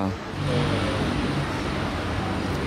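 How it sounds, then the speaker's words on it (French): A Ford GT sports car engine idles with a deep, steady rumble, close by and continuous, with faint room echo, in Monaco. "la Ford GT est allumée"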